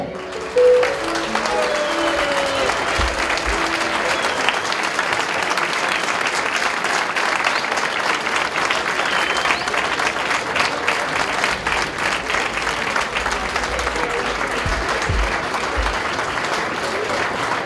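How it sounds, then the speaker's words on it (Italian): Long, loud, sustained applause from a large audience at the opening of a renovated BMW car dealership, a dense steady wash of clapping that keeps going with a brief voice at the start. "Al mio tre io vi chiedo un applauso, ma non un applauso piccolo, deve essere un applauso enorme"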